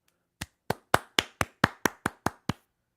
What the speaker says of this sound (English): Please give a big, huge round of applause to Goroff.